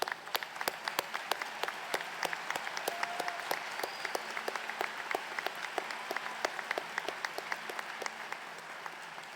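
A graduation audience claps steadily for faculty, sustained moderate applause from a seated crowd with a dense, even patter throughout.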